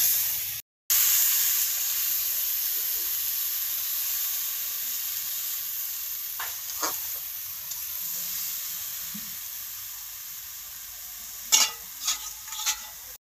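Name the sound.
vegetables frying in spiced masala in a pan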